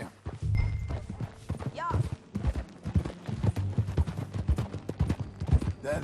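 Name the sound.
horse hooves clip-clopping while riding, from video game Red Dead Redemption 2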